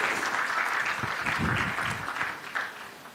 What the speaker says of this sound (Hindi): दोनों हाथ मिलाने हैं और जोरदार तालियां बजाते रहनी है